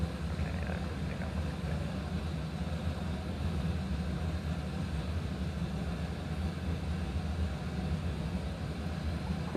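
An airliner taking off in the VATSIM flight simulator, with a steady, loud, low engine drone that holds without a break and no talking.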